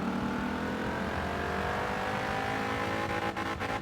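A car in the Forza Horizon racing game accelerates hard after the gas is pressed, its engine roaring steadily and rising in pitch with no break, loud and continuous.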